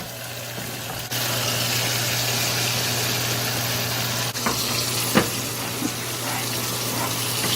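Red snapper fish fries in a pan with a steady, loud sizzle that continues throughout, broken by a few faint clicks and stirring sounds.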